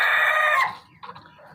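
A rooster crows loudly and close by, a short harsh call that breaks off abruptly, followed by faint scattered bird noises.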